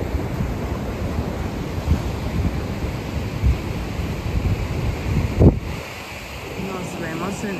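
Ocean waves breaking on the surf beach at Playa Mahahual, Oaxaca, a continuous roar of surf with wind buffeting the microphone and a louder crash near the end.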